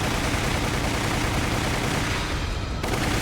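Dense, continuous SMG fire in a Resident Evil game, a loud unbroken rattle of rapid shots filling the whole stretch with only a brief dip near the end, no voices over it.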